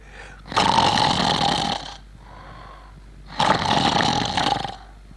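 A voice imitates a sleeping man snoring: two long, loud rasping snores separated by a quieter breath, close and alone without speech.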